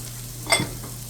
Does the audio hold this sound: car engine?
no